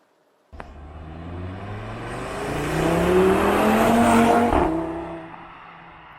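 A 2018 Audi RS3 driving on the road, its engine note rising steadily under acceleration with tire and road roar, loud and close throughout, easing off toward the end with no talking.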